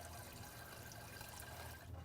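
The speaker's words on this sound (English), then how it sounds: "turn on the cold water, and let them run under some cold water" Cold tap water pours steadily over boiled eggs in a pot, a soft continuous rushing splash, faint and even, with no talking.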